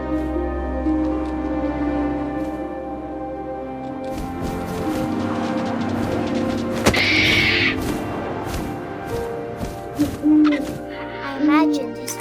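An owl hoots in What Remains of Edith Finch against a windy outdoor night bed, with a louder close hoot midway and further short calls near the end, while a voice narrates throughout.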